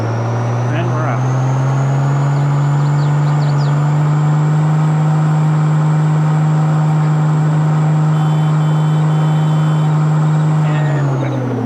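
Steady in-game vehicle engine drone from Farming Simulator 22, a continuous loud low hum holding an even pitch for the whole stretch before cutting off near the end, with light clunks early on and no talk.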